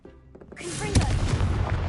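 The Confringo blasting spell in Hogwarts Legacy builds from a brief rising whoosh into a heavy booming explosion, a single loud blast with a rumbling tail that carries on to the end.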